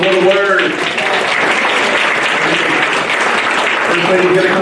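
A church congregation gives a steady round of hand-clapping at a Bible study service, loud and continuous from start to finish. Voices briefly call out over it at the beginning and at the end.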